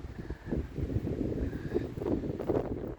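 Outdoor wind buffets the microphone in gusty, rumbling swells beside a cabin base and a raft, a continuous low roar close to the mic, with no voices.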